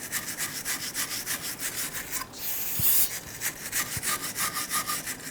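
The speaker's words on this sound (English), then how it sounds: "Going to use a wire brush" Rapid back-and-forth scraping of a wire brush cleaning metal parking brake components on a 2006-2014 Honda Ridgeline, close and steady, with a short pause midway and a few light knocks.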